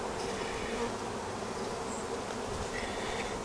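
Honey bees at an open hive during an inspection, a steady, dense buzzing swarm hum filling the whole clip at moderate to low volume, with no talking.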